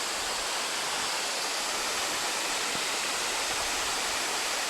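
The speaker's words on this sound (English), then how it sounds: "Beautiful fall flowing down there" Somersby Falls in Brisbane Waters National Park pours down in a continuous, broad rushing roar, steady and fairly loud with no break, and nobody talks.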